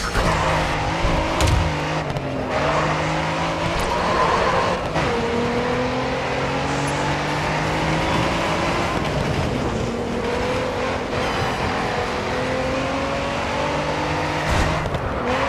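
Race cars in the racing video game GRID 2 roar loudly and continuously, engines climbing and shifting through gears with brief whooshes of other cars nearby.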